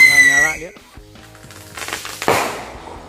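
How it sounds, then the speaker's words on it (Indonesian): A sharp firecracker bang cracks out after a whistling, sputtering fuse sound, with crackling debris trailing off afterward; nearby and loud. "Ini dia guys merconnya, kita nyalakan di sini."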